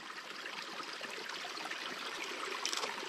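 Water trickles and flows softly and steadily in a small canal, a faint continuous babble with no voices.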